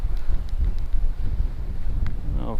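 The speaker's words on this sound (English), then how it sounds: "it's very windy, but I don't know how much wind is being picked up through the mic or not" Wind buffets the microphone in a loud, continuous low rumble with gusty fluctuations at a lookout tower in Lake Woodruff National Wildlife Refuge, Florida; no voices are heard.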